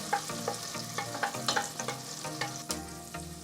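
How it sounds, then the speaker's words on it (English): Red onions sautéing in melted butter, with a light sizzle broken by frequent spatula scrapes and taps against the pan in an uneven rhythm, close and moderately quiet. "Saute them for a few minutes."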